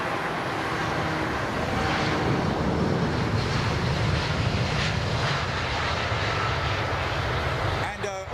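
A large airliner roars steadily on runway 27R at London Heathrow, a loud, continuous engine rumble with wind buffeting that holds throughout and tails off at the end.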